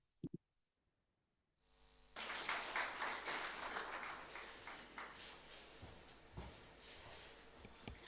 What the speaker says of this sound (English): Another round of applause for the chair, Dr. Alan Azegele.